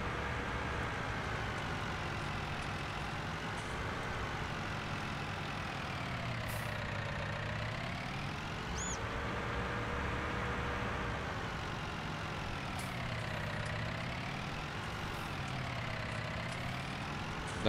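A farm tractor's engine idles in a hay yard, a steady, close, continuous rumble with a gently wavering pitch and no talking.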